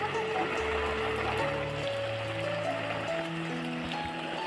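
Water from a hose runs onto a bottle gourd vine in a hillside vegetable garden, giving a steady, continuous rushing splash with a faint tonal hum underneath and no talking.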